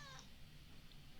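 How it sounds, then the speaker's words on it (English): A house cat meows once, a short clear call at the very start, then only faint room tone follows. "That was the cat's answer."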